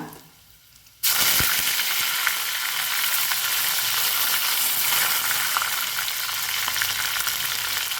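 Three dried red chillies dropped into hot oil for a watermelon and mango pickle set off a loud, sudden sizzle after a second of near silence, then a dense, steady crackling hiss that carries on without speech.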